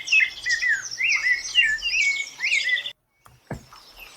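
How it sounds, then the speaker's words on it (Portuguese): A rufous-bellied thrush sings a clear, fluting phrase of repeated warbling notes, loud and close, broken off by a short gap and a soft knock. "Esse é o sabiá laranjeira."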